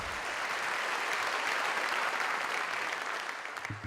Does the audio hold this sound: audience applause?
yes